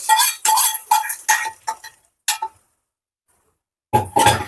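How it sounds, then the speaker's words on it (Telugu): A spoon stirs hot tempering into gongura pickle in a metal vessel, giving a series of quick clinks and scrapes in short bursts, pausing briefly before a final louder burst of stirring. "వేసుకొని ఒక్కసారి కలపాలి"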